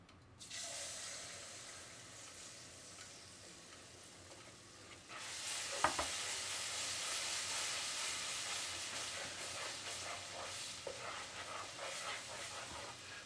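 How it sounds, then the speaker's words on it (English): Tomato sauce from a can hits a hot pan for a homemade enchilada sauce base, a faint soft simmer that suddenly swells into a loud, steady sizzle as it is poured and stirred, with a few scraping clinks. "And to this I'm going to add a 29-ounce can of tomato sauce, but I'm only going to add a little bit to begin with."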